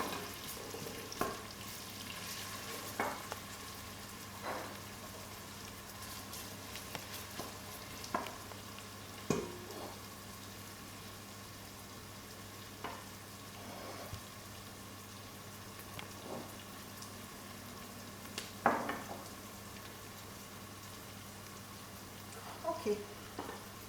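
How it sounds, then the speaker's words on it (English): Chopped onions, then tomatoes, fry in oil in a pan, a steady low sizzle running throughout with scattered small pops and crackles. "I'll let my onions fry just for 2 minutes or thereabout, and I'll add in tomatoes"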